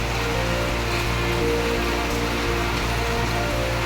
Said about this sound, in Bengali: রে বাপরে তুমুল বৃষ্টি হচ্ছে